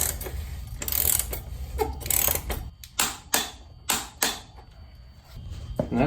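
A ratchet clicks in short bursts while tightening the rear axle nut on a Husqvarna TE-150 motorcycle to 59 pound-feet, sharp mechanical clicks coming in quick, uneven runs against a faint background.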